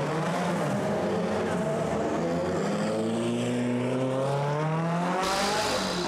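Race cars, among them an A86, roaring off the start of a race, with loud, close engine noise that rises in pitch as several cars accelerate together and then cuts off suddenly near the end.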